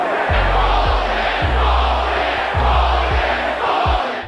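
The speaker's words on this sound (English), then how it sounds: "In the crowd's reaction, you can clearly tell that this decision was awful." A boxing arena crowd roars and boos at a disputed draw decision, a dense, loud, sustained wash of voices with low thumping bumps underneath, distant and unbroken across the whole stretch.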